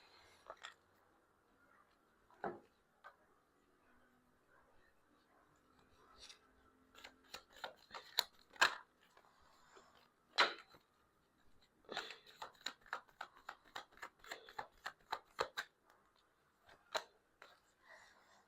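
Tarot cards shuffled by hand in quick, irregular bursts of crisp riffling and slapping, faint and close, with quiet pauses between.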